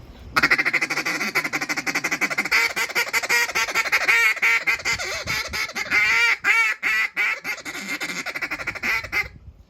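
A world champion duck caller blows a duck call in a rapid, continuous run of loud quacking and feeding chatter, imitating a large flock of ducks heard far off, close and alone for nearly ten seconds.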